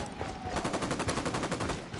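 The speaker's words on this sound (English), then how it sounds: "I'm shooting these fuckers." Rapid automatic gunfire from a player shooting enemies in the Ghost Recon video game, a steady fast train of about a dozen evenly spaced shots, close and continuous throughout.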